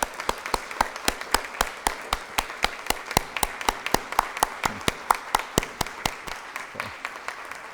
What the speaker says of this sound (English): please join me in applauding our beloved star